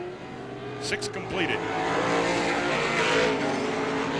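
Pro stock race cars roar around the Star Speedway oval at a 1993 heat, engines droning loud and continuous with a swelling pass, under a race announcer's commentary.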